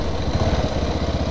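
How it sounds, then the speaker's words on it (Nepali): A motorcycle engine running after a cold start in wet weather, a steady low rumbling idle with rhythmic pulsing, close and continuous with no voices. "बाइक कोल स्टार्ट गर्दै होइन"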